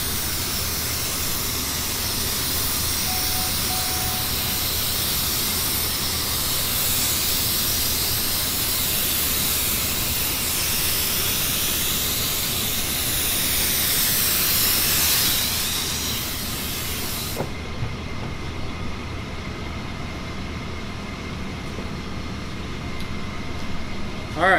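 A steady, broad spray hiss from spraying a Jeep grill for hydro dipping runs for most of the stretch and then cuts off sharply, leaving a quieter background hum.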